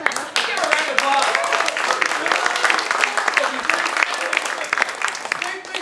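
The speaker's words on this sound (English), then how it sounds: "a round of applause." An audience applauds loudly and continuously for a performer after an emotional crying bit on stage, with scattered voices and cheers mixed into the clapping.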